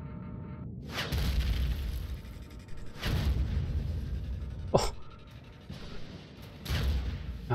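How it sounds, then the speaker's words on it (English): An HV rocket turret firing in the game Empyrion, sending out several separate booming launches spaced about two seconds apart over a low hum. "Oh, it's a HV rocket turret, isn't it?"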